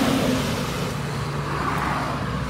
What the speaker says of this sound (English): I'm filming the traffic